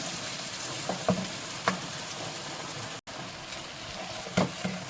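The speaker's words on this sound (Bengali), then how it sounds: "এটাকে খুব ভালো করে এখন ফ্রাই করতে হবে" A paste sizzling in a pan as it is fried and stirred while making malai paneer, with a steady close hiss broken by a few scraping strokes of a spoon, and no voices.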